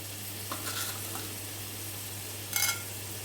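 Mustard seeds fry in oil for a Telugu ridge gourd curry, a faint steady sizzle over a low hum with two brief louder crackling bursts, no talking.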